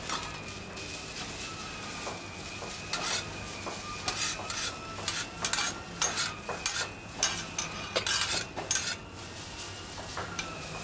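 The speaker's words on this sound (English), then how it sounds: "So we're just starting to break the noodles up there." Homemade noodles stir-fried in vegetable oil in a pan, with a soft continuous sizzle under repeated scraping, clattering utensil strokes as the noodles are broken up and tossed, growing busier and louder toward the end.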